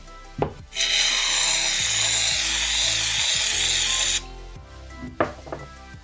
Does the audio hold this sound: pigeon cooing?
no